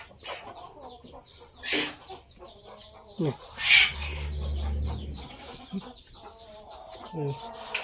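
Laying hens clucking and murmuring close by as they feed, with short bursts of louder squawks and calls, and a person speaking in between.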